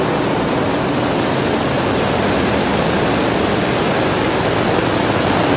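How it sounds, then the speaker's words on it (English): SpaceX Falcon rocket lifting off, a steady broadband roar that rumbles continuously without letting up, heard from a distance. "Ignition and liftoff. Go Falcon, go MTG-S1."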